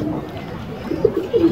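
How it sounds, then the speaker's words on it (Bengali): A pair of Silver Musaldom pigeons cooing, with a few soft, low coos rising near the end over a quiet, murmuring background. "চুইঠাল সিলভার মুসালদম কবুতর"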